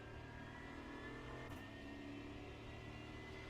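A car on a race circuit accelerates up through the gears, its engine a steady, fairly faint mid-pitched drone heard alone with a brief whoosh partway through.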